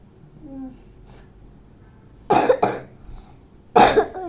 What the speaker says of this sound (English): Just now I coughed and nobody is there near me.